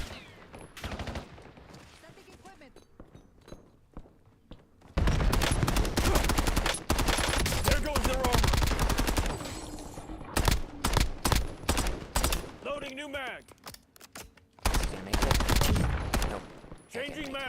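Video game gunfire, rapid bursts of automatic shots crackling in long loud volleys with brief gaps and reload pauses, mixed with in-game sounds and occasional talking.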